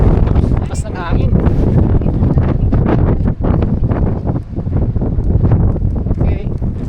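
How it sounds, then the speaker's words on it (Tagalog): Strong wind buffets the microphone in loud, continuous gusts at sunset while people talk underneath. "Lakas ng hangin."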